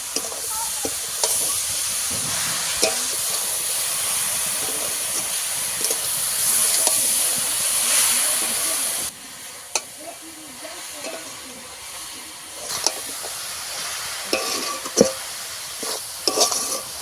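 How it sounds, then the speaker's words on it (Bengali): A coconut and sugar filling cooks down in a pan with a steady hiss and soft sizzle, punctuated by scraping, clinking strokes of a spoon stirring; the sizzle drops quieter partway through while the scattered stirring taps continue. "এবারে ভালো করে একটু পুরটাকে পাক করে নেবো"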